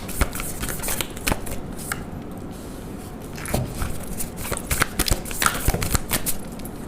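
Tarot cards being shuffled by hand, a steady run of crisp riffling flicks and soft slaps, close and fairly quiet, with no talk over it.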